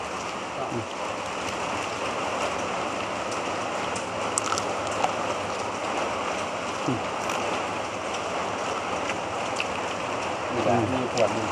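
Heavy rain pours down in a steady, dense hiss with no break, with faint voices and a few small knocks under the downpour.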